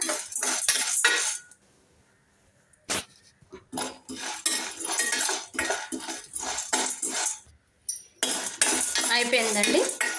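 Chana dal dry-roasting in a pan for homemade sambar powder, with repeated clattering metal stirring and spoon-on-pan scrapes in bursts, broken by a short quiet pause, close and fairly loud.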